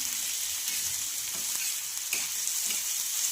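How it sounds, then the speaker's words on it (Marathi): Spinach fries in a pan for egg spinach bhurji, giving a continuous close hiss of sizzling with a few soft stirring scrapes and no voices. "तर छानपैकी पालक आपण फ्राय करून घेऊया"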